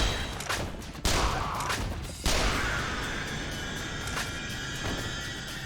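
Rifle fire aimed at zombies in Yakuza Dead Souls, with two loud sharp blasts near the one- and two-second marks ringing out over a dense, continuous battle din of further shots and crashes.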